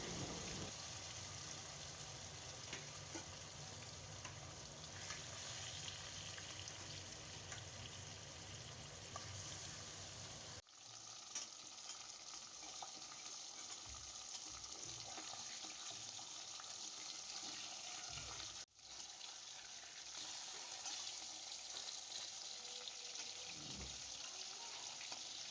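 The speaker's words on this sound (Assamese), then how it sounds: "এতিয়া প্ৰথমতে মাছখিনি ফ্ৰাই কৰি ল'বৰ কাৰণে কেৰাহীত মিঠাতেল গৰম কৰিছোঁ।" Fish pieces fry in hot mustard oil in a wok, giving a steady, dense sizzle that runs throughout with only two brief dips, and no talking.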